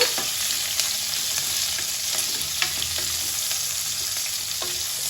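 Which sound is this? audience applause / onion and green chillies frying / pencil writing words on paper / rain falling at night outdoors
onion and green chillies frying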